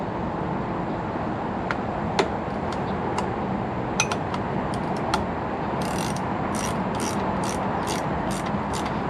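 A ratchet clicks in short bursts while a tractor alternator bolt is tightened to tension the belt, with sparse ticks early and a quicker run of clicks near the end over a steady background rumble.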